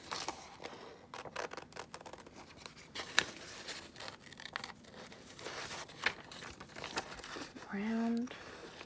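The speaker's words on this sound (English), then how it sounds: "it is time to cut it out, keeping it folded and cutting both sides" Scissors cutting through folded paper to shape a butterfly: soft, close snips and crinkling paper, fiddly and irregular, at a low level throughout.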